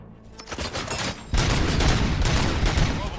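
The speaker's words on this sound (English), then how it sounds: "Gunshots? What's going on?" Gunfire in the video game Robocop: Rogue City, a rapid fusillade of shots that starts with scattered bursts and swells into loud, dense, continuous firing with no voices.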